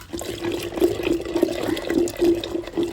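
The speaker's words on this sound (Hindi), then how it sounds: "ये देखिए साफ पानी है, तो पानी सहित हम डाल देंगे इसमें।" Soaked dried mango pieces poured with their water into a pot in a village kitchen, a steady close splashing pour with gurgling bubbles for about three seconds.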